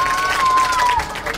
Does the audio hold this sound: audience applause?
yes